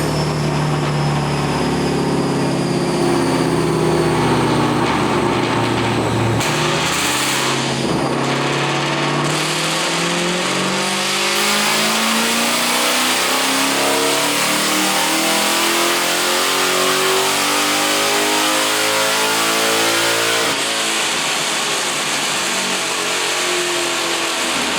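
A New Edge Mustang Cobra with a swapped-in Gen 3 Coyote V8 revs hard through loud axle-back mufflers, the engine note climbing in long sweeping pulls, close and very loud, with no talk.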